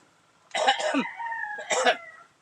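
Two short bursts of harsh coughing, close by, separated by a strained wheezy rasp.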